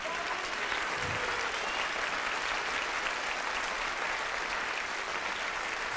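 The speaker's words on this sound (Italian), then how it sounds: "faccio un applauso calorosissimo, lo spero lo facciate voi, per tutti i ragazzi" Warm, sustained audience applause at a school Christmas concert, a dense continuous wash of clapping from a large crowd held steady for the whole stretch with no voices over it.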